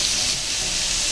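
Sausage and onion fry in a pan with a dense, steady, close-up sizzle that holds evenly throughout the short moment, with no talking.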